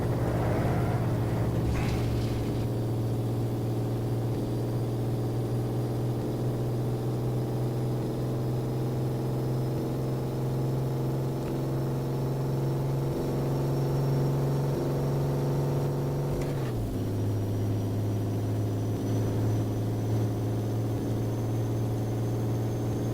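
A bus engine in the racing game rFactor, driven at Silverstone: a steady, loud, continuous drone with a held tone that drops in pitch once near the end, as at a gear change.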